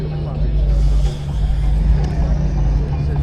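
A car engine runs at a car meet in Fort Myers, a loud, close, low rumbling drone held fairly steady with slight swells, while people talk nearby over it.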